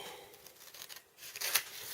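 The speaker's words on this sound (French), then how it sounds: "je vais prendre ma paire de ciseaux, je vais couper" Scissors snip the corners of a handmade album cover, a few soft, quiet cuts and rustles of paper close by, with a brighter crisp snip near the end and no talking.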